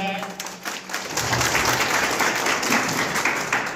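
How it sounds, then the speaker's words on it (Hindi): An audience at a gathering in Patna, Bihar breaks into a burst of dense, steady clapping that fills the room for a few seconds after a short spoken lead-in. "ताली हो जाए।"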